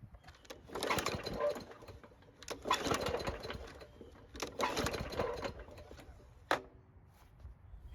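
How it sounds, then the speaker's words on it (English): A lawn mower engine repeatedly cranks in three long bursts, sputtering without catching, followed by a sharp knock and fading quiet. "this engine refuses to start"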